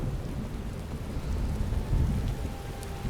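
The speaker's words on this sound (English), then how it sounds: "Ooh, it is raining." Steady rain with low rolling thunder in the video game Skyrim, a dense continuous wash that swells in the middle, with no talk over it.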